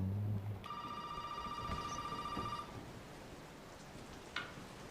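A telephone rings inside the horror video game Resident Evil 7, a single sustained electronic bell tone lasting about two seconds, fairly clear over a low ambient rumble, followed by a brief faint chime.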